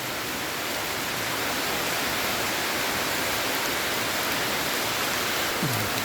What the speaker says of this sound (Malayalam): വെള്ളം ഇങ്ങനെ കൂർന്നിറങ്ങി വരുന്നുണ്ട്